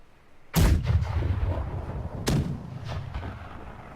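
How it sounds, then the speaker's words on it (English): Two loud, booming ship-cannon blasts from the naval combat game Blackwake, the first near 0.5 s and the second near 2.3 s, each followed by a rolling rumble and fainter distant shots. "Just keep the front guns firing."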